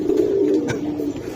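Loud, close pigeon cooing, a sustained low throaty murmur that runs throughout, from birds kept for sale among Giribaz pigeons.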